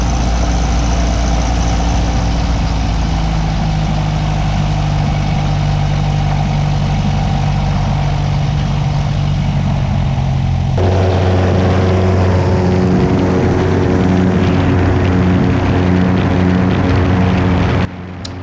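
Cessna Cardinal 177 light aircraft departing West Memphis: a loud, steady piston-engine drone with propeller hum heard from inside the cabin, jumping to a fuller, louder roar about midway as power comes up for takeoff, with no talking.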